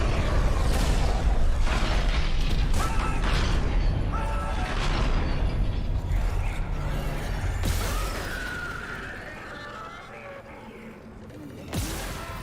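Loud, rumbling explosion and sustained mechanical roar in the Dead Space video game, a dense wall of blasts and debris that slowly fades, with a sharp burst near the end.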